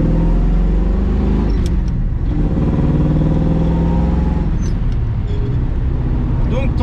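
A C10 pickup truck on the move, its engine a loud, steady low drone with road noise throughout, close and continuous, while a voice talks over it.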